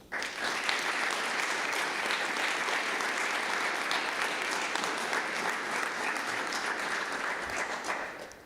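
A banquet audience applauds scholarship winners with sustained, dense clapping that holds a steady level for about eight seconds before cutting off.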